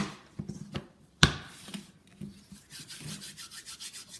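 Flour-dusted hands fold poolish bread dough over and over and scrape it from the bowl's sides: soft, close rubbing and scraping with one sharp knock, then a steady rhythmic run of rubs, no talk.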